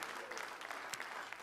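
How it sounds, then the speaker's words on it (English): A church congregation at a Sunday service claps in praise, a brief, fairly faint burst of many hands blended into a soft patter. "Can we one more time just give God a hand clap of praise this morning?"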